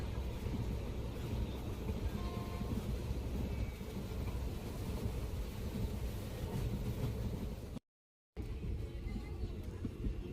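A passenger train arriving at Virudhunagar Junction rumbles steadily, close and continuous, with a broad roar of wheels and engine and a brief dropout near the end.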